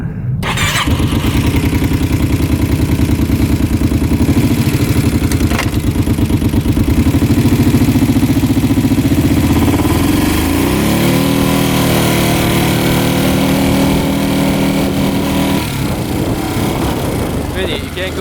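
An ATV four-wheeler engine on a test run, loud and close, droning steadily at high revs with a shifting pitch for the whole stretch, no talk over it.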